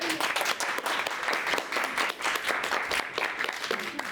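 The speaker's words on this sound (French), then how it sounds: "On applaudit." An audience at a school poetry prize ceremony claps together in sustained, fairly close applause that holds steady throughout, with no voices over it.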